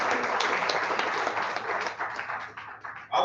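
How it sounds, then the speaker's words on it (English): Sustained applause from an audience at a Rotary District 9112 and Lagos State basic education and literacy event, dense steady clapping that thins out toward the end before a brief louder burst. "A round of applause, please."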